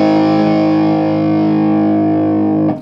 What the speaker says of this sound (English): I'm switching on the mega distortion pedal